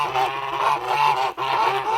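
Kholmogory geese by a stream honk loudly and continuously in overlapping calls, with one brief break before the honking resumes.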